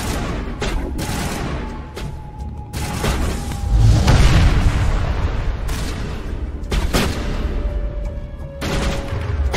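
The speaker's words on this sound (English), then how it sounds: "you really want to shoot them while they're down" Rapid gunfire and booming impacts from combat in the Mass Effect video game, dense volleys of shots with sharp bursts over a steady rumble of action, loud and continuous.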